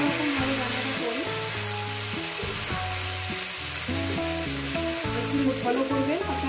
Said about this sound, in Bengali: এবার এই ফুলকপিটা দিয়ে মিনিমাম 6 থেকে 7 মিনিট, মানে যতক্ষণ না ফুলকপিটা ভাজা হচ্ছে ততক্ষণই আমি ভাজবো।